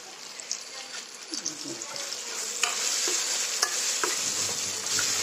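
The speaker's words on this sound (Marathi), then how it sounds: "आता हे चांगलं भाजून घेते." Chopped garlic and ginger sizzle and fry in a hot pan for a spiced wheat dalia, with steady crackling and occasional stirring scrapes throughout.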